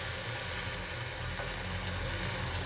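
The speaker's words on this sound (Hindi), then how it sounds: "इसी तरह से सभी ब्रेड को हम फ्राई कर लेते हैं।" Bread slices frying for shahi tukray (double ka meetha), a steady, even sizzle that hisses continuously without breaks, fairly loud and close with no talk over it.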